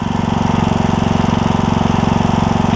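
A John Deere E100 lawn tractor engine idles nearby with a steady, fast chugging pulse while oil burns off the muffler, loud and even throughout.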